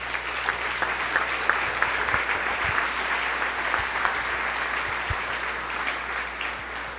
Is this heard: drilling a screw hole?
no